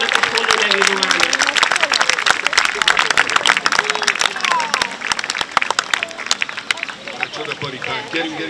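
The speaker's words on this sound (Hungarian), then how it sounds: "És nagy tapsot kérünk" A crowd claps loudly and steadily for a rider finishing a gallop at an equestrian show, with cheering and voices mixed into the applause.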